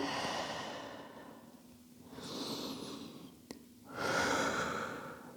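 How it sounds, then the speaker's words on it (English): Slow, deep breaths during a stretching exercise, two long audible inhale-exhale cycles, close and soft, with no speech. "Couple of big breaths here."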